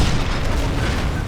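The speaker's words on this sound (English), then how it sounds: "use one of the flak cannons to shoot the other flak cannon" Flak cannon fire in the Sniper Elite video game, a loud, dense low boom that fills the short moment without a break, no speech over it.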